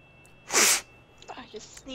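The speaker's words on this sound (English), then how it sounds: "I just sneezed like 10 times." One sharp, loud sneeze bursts out close to the microphone, followed by quieter breathy noises and brief murmuring.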